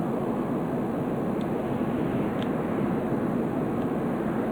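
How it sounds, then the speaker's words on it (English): A Skylark VTOL fast-response aircraft lifts off in the game Stormworks, giving a steady, close, unbroken engine and rotor drone that holds at an even loudness with no talk over it. "I can simply take off from this position again by raising the collective and do a normal takeoff"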